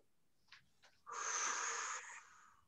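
A Pilates participant breathes in audibly during a seated abdominal exercise, with two short sniffs followed by a long, close, airy inhale of about a second that then fades out.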